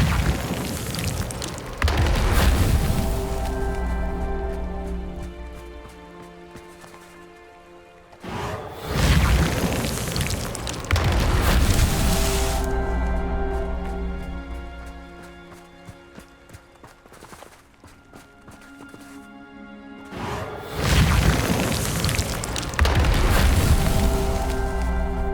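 Confringo blast spells burst in Hogwarts Legacy as loud booming explosions with whooshes, arriving in three heavy rounds over a sustained rumbling, droning game backdrop.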